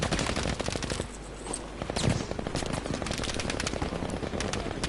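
Rapid machine gun fire in Battlefield V, with dense, continuous bursts of shots repeating steadily and loudly throughout, a sharper blast midway, and no talking.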